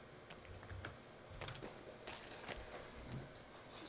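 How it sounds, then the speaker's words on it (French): Computer keyboard keys clatter in quick, irregular taps at close range while a player games in Sons of the Forest, with steady background noise underneath. "je joue sur clavier en ce moment"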